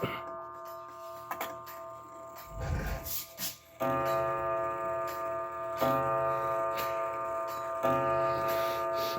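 A German Art Deco mantel clock made by Haller in the late 1920s ticks in a steady, even rhythm close by, with a sustained ringing tone humming beneath the regular clicks.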